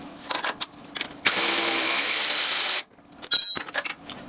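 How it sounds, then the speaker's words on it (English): Ratchet and wrench taking 18mm bolts and nuts off Jeep JL sway bar end links: a sharp burst of clicking, then a loud steady mechanical whir for about a second and a half, then more rapid clicks, up close. "we're just going to remove them with a ratchet and a wrench"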